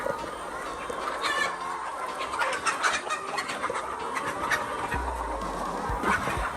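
Several layer chickens on a poultry farm in Liberia cluck and squawk over a steady background hum, with scattered calls throughout.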